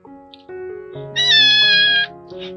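Abandoned gray and black kittens meow by a roadside, close and clear. Short cries build into one long, loud, high meow that then tapers off.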